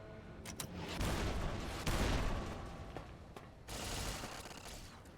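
Automated turrets in the video game Fallout New Vegas fire in sustained, dense bursts of rapid gunfire, loud and continuous with brief gaps between volleys, and no talking.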